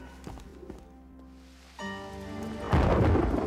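A cartoon storm builds in stages, with soft rumbles and scattered tones giving way to a steadier tonal layer. A sudden loud wash of rain and wind then crashes in near the end, dense and close, with no voices.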